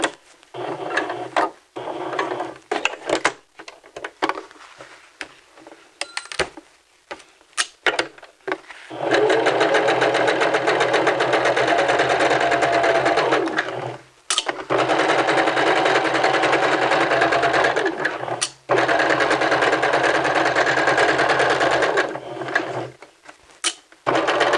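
A sewing machine stitching a men's vest, starting with short stop-and-go bursts, then running in long steady whirring stretches broken by brief pauses for back stitching and pivoting; close and loud with no talk.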